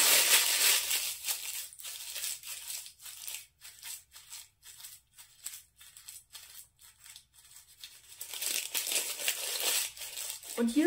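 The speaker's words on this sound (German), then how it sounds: "Du nimmst also dein Backpapier und zerknüllst es." Baking paper being crumpled by hand, dense crinkling and crackling bursts close up, growing loud at the start and end with quieter scrunches between.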